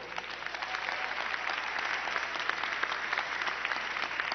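Audience applause at a Nicolás Maduro event in the Bronx, New York, honoring the leader of the mambo orchestra El Último Rey del Mambo: a continuous, even wash of clapping that sounds somewhat distant, with no speech over it.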